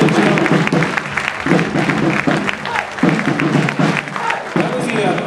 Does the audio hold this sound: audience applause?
yes